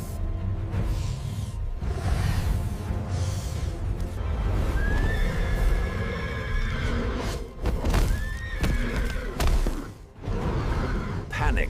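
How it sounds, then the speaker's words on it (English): A young foal lets out panicked, shrill whinnies in a meadow as a giant python coils around it, two rising cries standing out over a dense, loud bed of other sound. "Panicked neigh."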